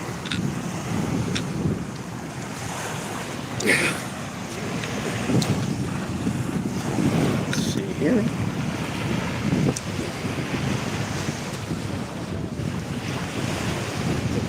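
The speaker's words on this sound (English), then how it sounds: "Just the sounds of the sea." Ocean waves break on a beach in Pensacola, Florida, rolling surf washing in and out amid strong wind buffeting the microphone, close and loud, with someone briefly speaking.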